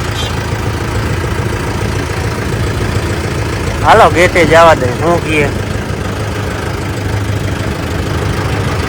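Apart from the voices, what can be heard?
tractor engine idling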